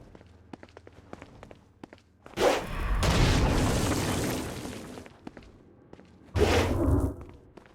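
In the video game Saints Row: Gat Out of Hell, a Stone Blast power explodes in two loud booming bursts aimed at flying demons. The first rumbles for a couple of seconds and the second is shorter, with light footsteps and clicks in between.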